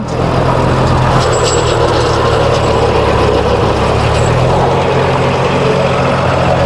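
A DI 35 tractor drives a rotavator through soil, its heavy diesel engine a loud, steady low drone with a constant working rumble throughout.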